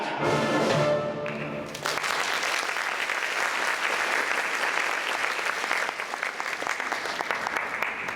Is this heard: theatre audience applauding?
yes